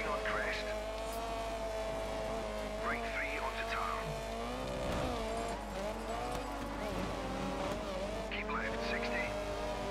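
Rally cars racing in Dirt 3, a Mark II Escort and a Lancia Stratos among them, with a steady engine drone, shifting revs and brief tyre squeals, loud and continuous, with talk over the top.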